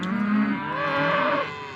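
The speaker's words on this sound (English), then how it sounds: "doing what cows do, a lot of mooing." A cow in a herd of roaming cattle in an East Valley residential neighborhood gives a single long, loud moo from close by. Its pitch shifts midway and it fades at the end, with no voices.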